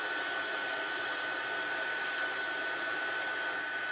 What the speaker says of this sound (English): I'm going to heat up my heating tool, so it's going to get a little noisy